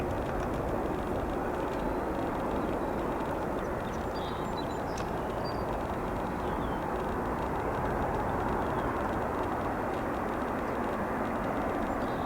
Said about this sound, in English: As that Embraer 175 departs for Pensacola, Florida